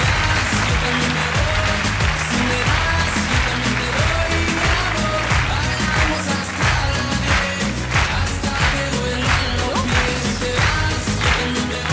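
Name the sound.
studio audience applause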